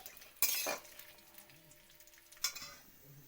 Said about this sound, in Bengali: তো এগুলো হচ্ছে হালকা আঁচে ভাজতে হবে আর বেশি জাল দেওয়া তো চলবেই না আর হালকা করে ভেজে নেব